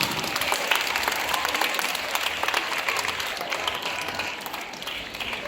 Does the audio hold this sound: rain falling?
no